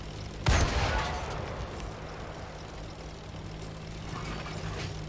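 One sudden loud tank cannon blast in a video game near the start, followed by a long rumbling decay under steady engine droning.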